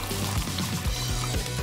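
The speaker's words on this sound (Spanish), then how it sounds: "¡El agua se le está cayendo!" Water pouring down in a steady stream, a continuous liquid rush with faint gurgles, moderately loud and alone.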